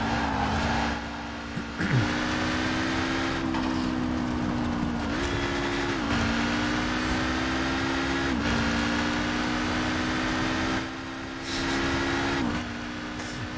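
A LEGO car's engine in Forza Horizon 4 hums steadily and drops in pitch each time the throttle is released, repeating several times with short whooshing and chirping bursts between the buzzing stretches.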